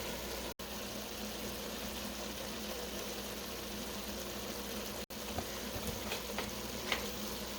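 Sausage frying in a large pot for a big batch of homemade spaghetti sauce gives off a soft, steady sizzle, with faint stirring clinks near the end and no voices.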